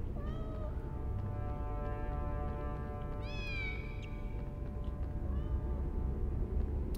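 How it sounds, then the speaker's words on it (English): A cat meows in a Harry Potter and the Sorcerer's Stone video game: three clear, close meows spaced a few seconds apart over a steady low background hum. "Come on, kitty kitty."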